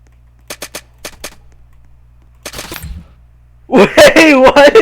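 Airsoft guns fire during a game at an airsoft center: a few quick sharp pops in a short burst, then a brief scuffle, followed by loud close voices talking excitedly.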